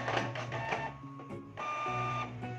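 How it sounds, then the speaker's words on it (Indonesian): Office printer running off carbonless NCR multi-part forms, a steady mechanical whir with rhythmic feed clunks and tonal motor whine, close and alone, pausing briefly midway before resuming. "kita lanjut lagi ngeprint yang middle, yang kuning, dengan cara sama seperti tadi"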